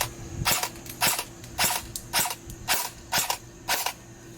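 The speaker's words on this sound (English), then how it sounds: "Let's try again. Shooting at the tree." An airsoft rifle with a freshly upgraded inner barrel fires at a tree outdoors, seven sharp, evenly spaced single shots about half a second apart, loud and close with no talking.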